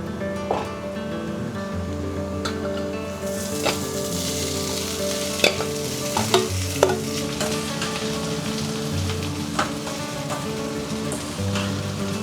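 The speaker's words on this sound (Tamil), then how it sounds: "வெங்காயம் நல்லா வதங்கிடுச்சுங்க இந்தளவு வதங்கினா போதும் இப்போ நம்ம ஸ்வீட் கண்ணை போட்டுக்கலாங்க" Sweet corn dropped into a pan of sautéed onions frying in oil, a dense crackling sizzle that swells after the addition, with scattered spoon clinks against the pan, close and without talk.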